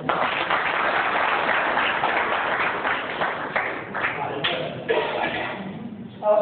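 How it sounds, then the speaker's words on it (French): A lecture audience applauding a conference speaker: dense, steady clapping that thins out toward the end, with a few louder isolated claps near the close. "Et puisqu'il a bien parlé, applaudissez-le encore."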